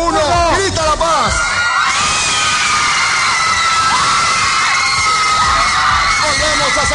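A large crowd of fans at a TVXQ and JYJ event in Bolivia shouts "La Paz" in unison, a loud, sustained roar of screaming and cheering voices filling the space.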